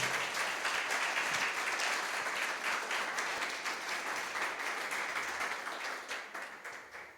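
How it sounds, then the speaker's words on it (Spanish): A church congregation applauds during a Spanish-language sermon, a full, sustained round of clapping from a large room that holds steady before gradually thinning and fading toward the end. "Dale ese aplauso al Rey."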